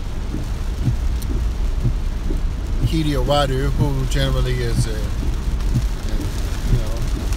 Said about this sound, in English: Damn it, it's raining.